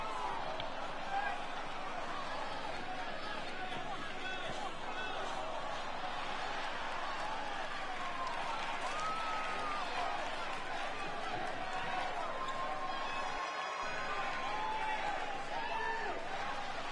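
A dense, steady roar of a cheering arena crowd in the WWE 2K25 wrestling video game, as a wrestler makes a ring entrance, holding a continuous wall of sound without a pause.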